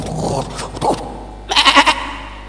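A human voice imitates a goat's bleat during a spoken story about a camel running into a goat: a short, wavering, nasal cry of about four pulses that follows a stretch of earlier talk-like sounds.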